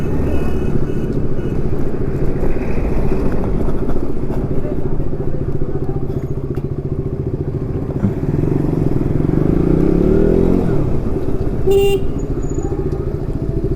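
A motorcycle with weak, sluggish pickup accelerates under a rider, its steady engine drone running loud and close throughout, with a rising pull in revs around the latter part and a brief sharp clatter near the end.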